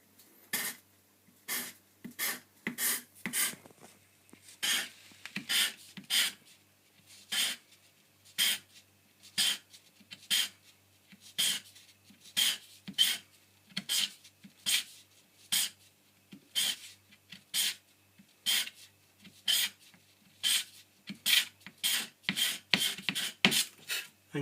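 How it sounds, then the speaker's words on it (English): A chisel used as a scraper across the wooden back of a classical guitar makes short, rasping strokes in a regular rhythm, about one a second. The strokes are close and crisp, with quiet gaps between them. "So what I can do is to use the chisel"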